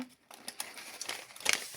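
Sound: crinkling paper being unwrapped

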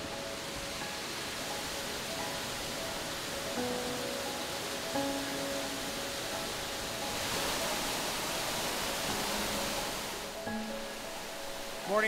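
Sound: waterfalls near a forest camp in British Columbia

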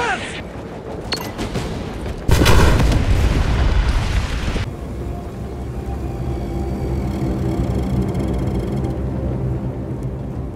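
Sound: bomb detonation explosion in a video game

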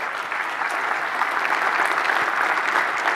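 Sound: audience applause

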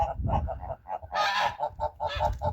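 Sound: gander honking

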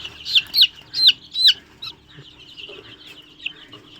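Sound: chickens clucking

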